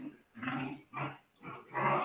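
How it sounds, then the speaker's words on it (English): Puppies whimper and whine in short bursts with brief pauses between them, fairly close and clearly audible, with a faint high steady tone running above them. "The background noise with the puppies"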